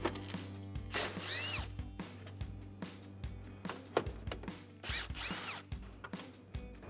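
Power drill backing out 10mm grille bolts on a 2012-2015 Toyota Tacoma, short repeated whirring bursts with pauses and clicks between them, close and fairly quiet, no talking.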